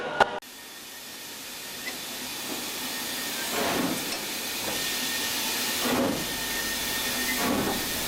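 Steam hisses steadily from a nearby engine, swelling into several louder chuffing bursts at irregular intervals.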